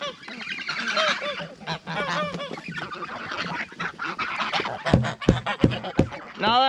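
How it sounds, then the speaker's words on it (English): Geese raised by a teen honk excitedly at morning grain feeding, a loud, overlapping clamor of nasal honks with ducks mixed in, close by and continuous, ending in sharp bursts and clattering sounds. "Hey, the geese!"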